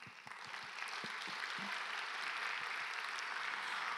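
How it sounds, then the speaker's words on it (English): Attendees at a science and technology closing ceremony clap for themselves, a few scattered claps at the start quickly swelling into steady, fairly soft applause across the room. "why don't we give a big applause to ourselves?"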